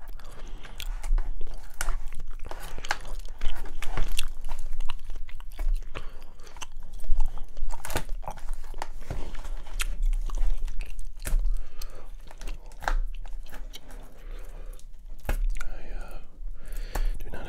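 Close, wet gum chewing with soft smacking clicks repeats steadily throughout, alongside quiet whispering.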